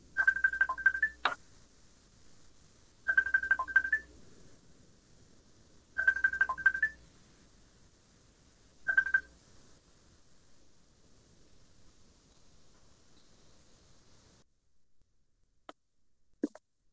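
A telephone rings during a physics class, four evenly spaced bursts of electronic trilling about three seconds apart, followed by near silence with a few faint clicks.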